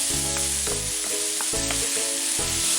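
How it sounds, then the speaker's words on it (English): Onion slices caramelizing in a pan with overcooked, mushy tomatoes, a steady sizzle broken by several stirring scrapes, close and fairly loud with no talk. "Caramelize the onion."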